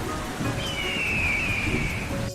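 A cartoon storm roars with steady heavy rain and a rumbling wash of thunder, loud and continuous throughout.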